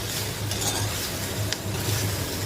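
Garlic sizzles in hot tempering oil for a Konkan-style mixed vegetable curry, a steady, close, even hiss with faint stirring and utensil clinks and no talking.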